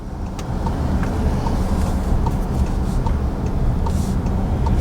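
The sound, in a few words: SUV driving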